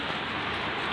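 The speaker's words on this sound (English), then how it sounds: "in a drizzle" Light morning drizzle falling on city streets in Baku, a soft, even patter of fine drops on hard surfaces, steady and continuous with no voices.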